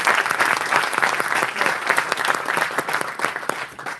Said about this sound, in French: Donc, je demande d'applaudir encore une fois.